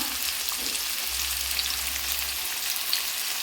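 Spice paste frying with chickpeas in a hot pan, a loud, continuous hiss and crackle close by, steady throughout with no talk.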